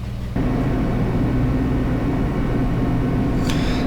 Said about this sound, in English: This time, the clunking was loud enough to hurt my ears